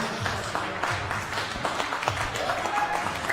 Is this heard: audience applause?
yes